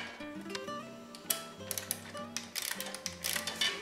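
A 10mm wrench tightening a nut on a Columba LW20S folding bike while fitting a fender and wheel, a close series of quick metallic ratcheting clicks with faint tonal background.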